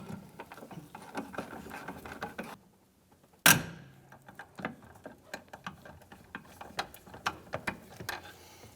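A hand ratchet clicks in quick bursts while tightening the brake master cylinder nut on a 1992-1996 Ford F-150, a rapid metallic ticking that stops briefly, resumes after a sharp clank, and continues in uneven strokes close by.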